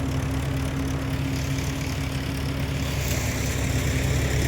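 A tractor engine idles steadily in a six-bigha peanut field during harvest, a constant low rumble with a faint steady hum, no voices and no change in pace.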